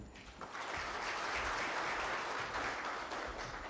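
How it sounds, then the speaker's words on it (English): Applause from an audience at an IEBC event marking Chebukati's last day in office, a steady, moderately distant wash of clapping that lasts a few seconds. "a better round of applause for Bina Maseno"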